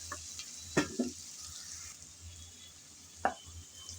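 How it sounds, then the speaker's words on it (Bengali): Onions fry in oil previously used for frying fish and are stirred until light brown. A faint, low sizzle runs throughout, broken by a few sharp utensil clicks and knocks against the pan. "কিছুক্ষণ নেড়ে চেড়ে পেঁয়াজ হালকা ব্রাউন কালার করে ভেজে নেব।"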